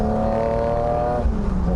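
BMW Z1 roadster engine held on light throttle through a bend, a loud close drone of steady harmonic tones that dips slightly as the car rounds the corner.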